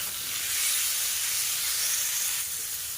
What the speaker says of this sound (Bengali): আলুটা বেশ কিছু সময় ভাজা করে নিয়ে এবার এখানে কেটে রাখা পটলটা দিয়ে দেব।